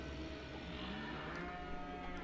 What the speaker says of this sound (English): we'll finish off by putting a couple load of stuff into the milk cows